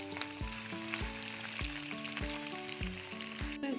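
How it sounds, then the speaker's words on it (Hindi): Chicken kofta fry in hot oil over a low flame, producing a soft, steady sizzle close by, with regular low thumps and a faint tonal hum running underneath. "मैं ये कोफ्ते डाल दूँगी, इसको बिल्कुल लो फ्लेम में हमने पकाना है ताकि इसमें एक सुनहरा सा कलर आ जाए"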